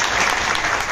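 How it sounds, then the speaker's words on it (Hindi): An audience claps steadily and loudly through the whole moment, a dense wash of many hands with no pauses and no voices standing out. "एक बार मुझे तालियां बजा कर आप बताओ"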